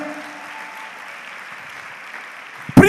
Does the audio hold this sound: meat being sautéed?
no